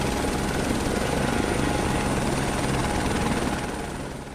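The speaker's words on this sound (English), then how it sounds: "A helicopter takes Macron around the island to get an aerial view." A helicopter flying over Mayotte after Cyclone Chido, a loud, steady rotor and engine roar with a dense, continuous thrum that stays close, then begins to fade slightly toward the end.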